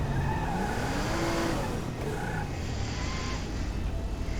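A car in Grand Theft Auto V drives off with a steady engine drone and a short rising tire squeal, loud and close throughout, with no talk over it.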